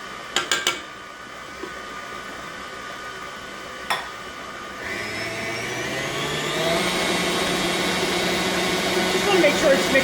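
An electric mixer works a graham crumb base of graham crumbs and icing sugar, starting after a few knocks and then whirring steadily, its loud motor whine rising in pitch and growing louder as it runs.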